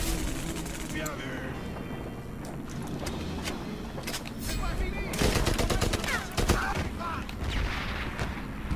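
Machine gun fire in the video game Medal of Honor Airborne, dense rattling bursts and booms layered over battle noise, growing heavier midway through the clip.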